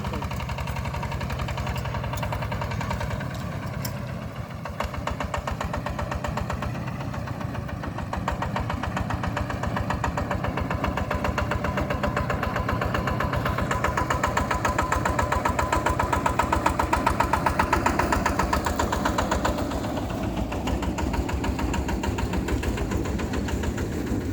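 A tractor engine chugs steadily while working a soft, muddy field, its close, rhythmic knocking continuous throughout and swelling slightly in the middle.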